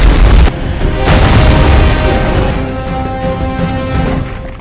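A loud explosion goes off in a James Bond action scene after a briefcase is shot, a heavy boom that rolls into a long, rumbling blast and debris noise.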